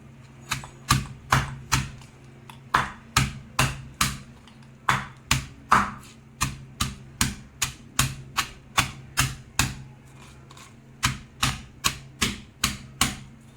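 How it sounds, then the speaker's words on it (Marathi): White bitter gourd being crushed finely with a pounding tool for a thecha, a long run of sharp, regular, close thuds at a steady brisk rhythm with no voices. "आता आपण हे सर्व कारले ठेचून घेऊया"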